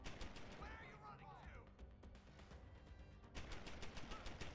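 Automated turret in the video game Deus Ex: Human Revolution firing loud, rapid bursts of gunfire, with a brief lull midway before another dense burst, close and dominant.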